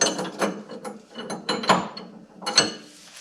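A torque wrench ratchets on a nut of a QA1 front coilover during a third-generation suspension install, sounding as a series of close, sharp clicking bursts in an uneven rhythm with quiet gaps between them.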